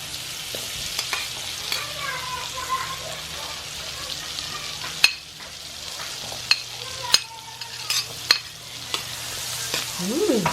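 Chopped onions hit melted butter in a pan for tofu sisig, giving a soft steady sizzle with scattered sharp clicks of a spoon against the pan, close and moderately quiet, with no talking.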